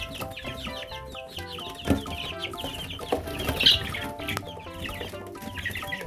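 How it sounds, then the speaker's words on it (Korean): Many young green-egger chickens, about 25 days old, cluck and peep continuously at close range, a busy overlapping chorus of short calls with occasional louder squawks. "얘들은 25일 정도 되는 닭들입니다"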